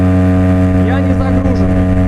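An outboard motor on an Admiral 320 inflatable boat running at full throttle, around 5500 rpm and 27 km/h, makes a loud, steady, close engine drone with a strong hum.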